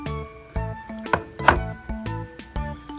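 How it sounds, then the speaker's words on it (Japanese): A guitar played next door carries through the wall into the room: plucked, ringing notes land at a steady pace about twice a second, fairly faint and slightly muffled, with no talking. "なんかギターの音するじゃん、"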